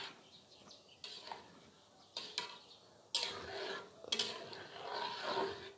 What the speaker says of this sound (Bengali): এখন আমি এভাবে নেড়ে দিচ্ছি